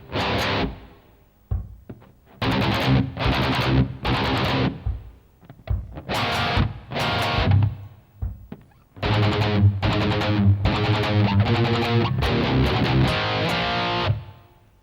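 Distorted electric guitar plays the second half of a verse in loud chugging bursts separated by short pauses, then a long sustained run, with no talking.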